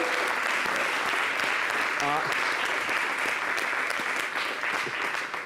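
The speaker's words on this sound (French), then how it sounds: "Est-ce qu'on peut applaudir les gagnants de la semaine?" Studio audience applause for the week's winners on a summer TV show, a steady wash of clapping lasting several seconds, with a brief voice cutting through in the middle.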